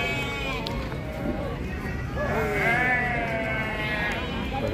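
Sheep bleating repeatedly at the busy Gudur sheep market, several animals calling over one another amid constant crowd chatter and people talking nearby.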